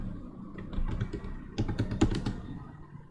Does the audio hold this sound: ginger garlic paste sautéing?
no